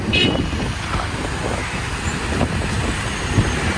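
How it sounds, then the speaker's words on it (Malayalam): Vehicles creep along in a slow traffic jam on a road near Kakkad. A dense, steady rumble of engines and road noise comes from close by, with faint brake hiss and no clear voices. "മൂന്ന് ലൈനിലും വാഹനം നിറഞ്ഞിട്ടുണ്ട്"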